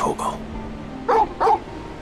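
A dog in Final Fantasy 16 gives two short, close barks in quick succession over a soft, steady background hum.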